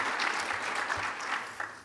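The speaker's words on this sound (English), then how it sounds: "to give a round of applause for them" Steady applause from an audience, a dense patter of many hands clapping at moderate volume throughout the short stretch.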